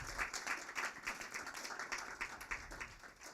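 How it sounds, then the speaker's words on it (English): Applause from an audience at a graduation ceremony in Jersey City, a dense, steady patter of many hands clapping for a few seconds, moderately loud and without speech. "Let us give them a big round of applause"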